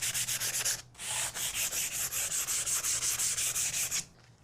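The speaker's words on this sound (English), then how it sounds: "we're just going to start sanding this really good" Sandpaper rubbed briskly back and forth along a wooden dowel rod, about twenty close, even scratchy strokes in a quick rhythm with a short pause near the start, no voices.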